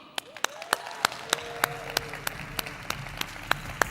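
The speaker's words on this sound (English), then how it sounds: "Let's give her a round of applause." Sparse, sharp claps spaced out over a low murmur, like an audience at a Google for India event giving scattered applause rather than a full ovation.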